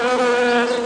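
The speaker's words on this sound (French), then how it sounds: "quand on entend le bzzz que fait une abeille" A honeybee's steady buzz, close and loud, holding one unbroken drone for under a second with no other sound.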